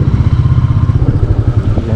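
A Royal Enfield Meteor 350 touring motorcycle is ridden, its engine giving a steady low pulsing thump with rumbling wind noise, close and loud throughout.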